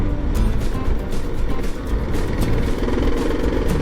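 Kawasaki KLR650 single-cylinder motorcycle engine pulling hard under throttle as the rear wheel steps out into a power slide on a forest road, a loud, steady, close engine roar with wind rush throughout.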